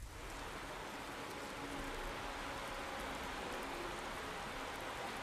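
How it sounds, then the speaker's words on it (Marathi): Heavy monsoon rain falling near Dadar railway station in Mumbai, a dense, constant roar of rain with no breaks, steady and fairly loud throughout with no voices. "मुंबईमध्ये पहाटेपासूनच पावसाने जोरदार हजेरी लावलेली आहे"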